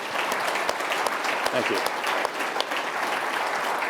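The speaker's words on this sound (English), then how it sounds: "all of us should just give you a round of applause" Audience applause fills a hall at a geopolitics talk featuring a general, a steady dense clatter of many hands lasting throughout, with someone speaking briefly over it.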